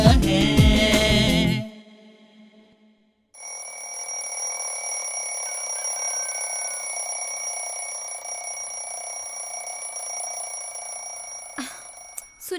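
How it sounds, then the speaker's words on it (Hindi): After a song fades out, an alarm clock rings with a steady, shrill metallic tone. It keeps ringing for about nine seconds without a break and then cuts off abruptly with a click. "अलार्म बज रहा है, उठिए ना।"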